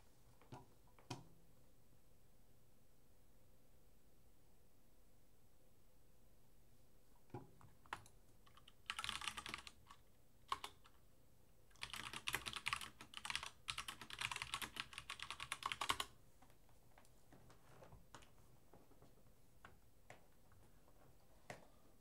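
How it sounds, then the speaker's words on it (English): Mechanical computer keyboard keys clack close to the mic, a few isolated taps early, then two bursts of rapid typing, then scattered clicks in a quiet room. "my mechanical keyboard really comes through this mic"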